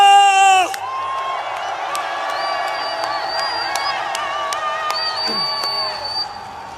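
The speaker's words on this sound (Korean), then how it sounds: "큰 함성과 함께 박수를 부탁드립니다" A large crowd at a political rally in Gwangju roars with cheers, whoops and shouts that hold steady for several seconds after a loud opening burst, with sustained tones ringing over the crowd noise.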